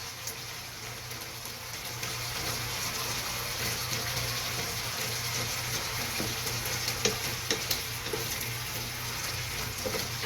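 Igado, a Filipino pork and liver dish, frying in a pan while being stirred: a steady low sizzle with occasional scraping clicks and stirring knocks, fairly faint and continuous, no voices.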